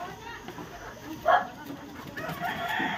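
Chickens at a Davao City backyard with fighting cocks, a rooster crowing once briefly amid ongoing clucking and outdoor ambience, fairly close, with people talking faintly at times.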